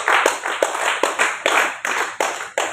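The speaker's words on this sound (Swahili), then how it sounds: "Ongeza makofi tena kwa Yesu." A congregation at a Swahili church service claps hands together in a steady, unison rhythm, about eight sharp, loud claps spaced evenly, with no talk over them.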